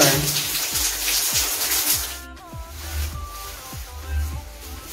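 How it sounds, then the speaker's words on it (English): Shower water runs steadily with a broad rushing hiss, close by, with faint low thumps underneath and a slight change in the flow partway through. "Take out your clothes and take a shower."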